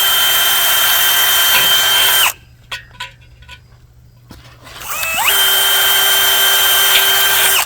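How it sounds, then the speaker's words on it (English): A loud, close power drill whines steadily as it drills into an aluminum pool fence post, stops for a few seconds of small clicks and clanks, then spins back up. "these are much smaller and easier to drill"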